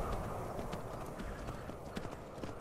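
Horse hooves clip-clop steadily on the ground in the video game Skyrim, a continuous rhythmic trotting under a noisy, full background wash.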